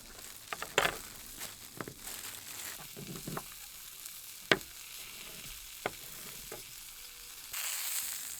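Steak cooks in a pan with a soft, low sizzle underneath, broken by sharp clicks and clatters of handling nearby, and a brighter hiss rises near the end.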